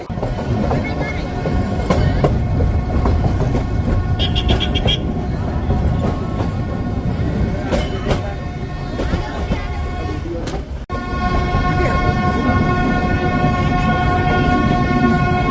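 The Nilgiri toy train, a UNESCO heritage line from Coonoor, rolls toward Ooty railway station with a loud, continuous rumble and rattle, sounding repeated horn blasts, while people talk nearby.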